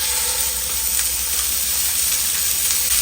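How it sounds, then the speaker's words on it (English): Ground beef sizzling in a hot skillet, a steady, dense crackling hiss that fills the whole stretch evenly and close by, with no talking over it. "We're going to add our ground beef to the pan."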